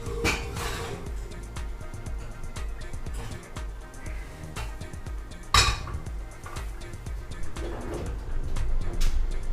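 A metal baking pot clanks and scrapes as it is handled for baking rustic Italian bread, with sharp clinks against background bird cooing.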